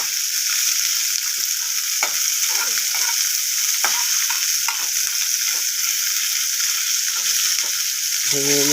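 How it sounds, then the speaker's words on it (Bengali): Onions sizzle and fry steadily in hot oil in a pan, a constant loud crackling hiss broken by occasional scrapes of a spoon stirring them. "ভালো করে ভাজবো পেঁয়াজটাকে"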